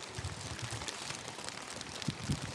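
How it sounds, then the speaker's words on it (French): Heavy rain falling during a bicycle tour around Jeju island, a dense continuous patter of drops hitting surfaces, with a few louder close splats and no voices over it. "Oh, commence à pleuvoir bien fort là."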